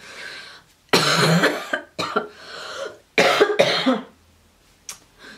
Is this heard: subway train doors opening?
no